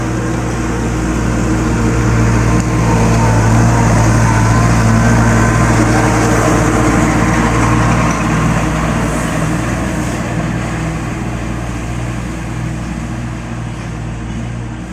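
A mechanical fertilizer spreader spins steadily in a field, throwing fine fertilizer with a continuous low engine drone and broadband whir that stays loud and even throughout, with no talking.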